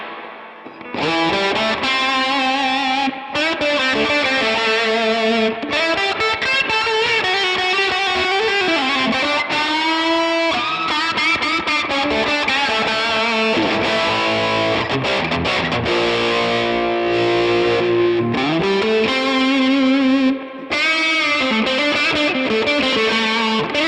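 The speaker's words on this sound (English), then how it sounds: "now let's hear how it sounds with monster massive reverb on a high gain channel" A Mesa Boogie Mark V amp on high-gain channel 3 drenched in heavy reverb produces loud, saturated distorted electric guitar. Sustained notes and chords ring with a thick, washy tail, played continuously and close, with no talking.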